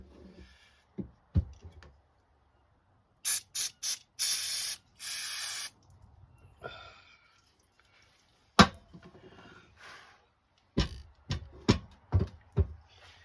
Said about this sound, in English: it's quite dirty in there and all, so let me give that a spray and all